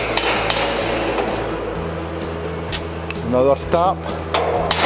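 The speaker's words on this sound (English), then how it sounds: "you may need to use a hammer just to tap the assembly into position and get the hole to line up" A hammer taps the rear winch assembly of a squeeze crate hoof trim kit into position, several sharp metallic knocks spaced irregularly, with someone speaking briefly between the taps.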